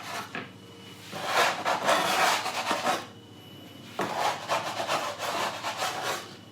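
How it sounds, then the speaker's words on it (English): A scraper scrapes underneath risen wholemeal cob bread dough in two close, rasping passes separated by a short pause, with no one talking. "I'm just running a scraper underneath."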